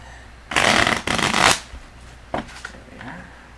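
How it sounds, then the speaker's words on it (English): Tarot cards are riffled twice in quick succession, two loud crisp bursts of shuffling close to the listener, followed by lighter taps and card handling. "2 shuffles"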